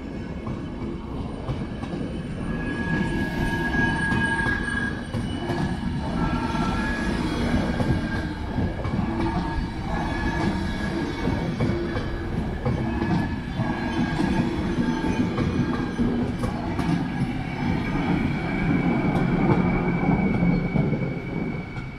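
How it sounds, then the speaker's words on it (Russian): An Austrian railways train pulls out beneath the Hackerbrücke road bridge in Munich on a grey, rainy evening, a steady close rumble of rolling wagons with occasional wheel squeal and clatter, no voices. "поезд австрийских железных дорог отправляется куда-то на стоянку"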